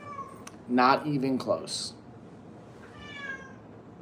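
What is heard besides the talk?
cat meowing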